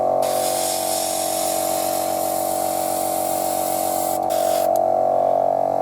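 An airbrush sprays paint onto model railway track, giving a steady, continuous close hiss over a constant low motor-like hum, with no talking.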